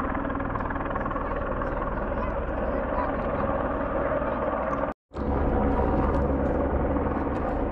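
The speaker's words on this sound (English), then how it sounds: "Helicopter is doing construction way up there on that big ski lift or something" A helicopter working on construction high up near a ski lift, its steady rotor thrum and engine drone filling the scene, with a brief gap in the sound near the end before the drone returns.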